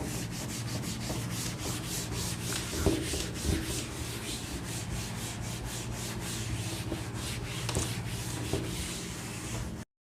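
A duster rubs a classroom board clean during a maths lecture on sets, giving a steady, continuous scraping swish for about ten seconds with a few slightly louder strokes and no talking.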